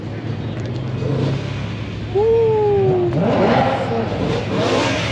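A single-turbo BMW 1M clone revs hard at a car meet, its engine note rising sharply midway and holding loud and close, with a short shout and background chatter from people nearby.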